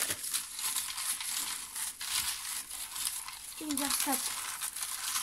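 Paper draw tickets rustle and crinkle as hands shuffle them, a steady close scratching, with a short voice cutting in near the end.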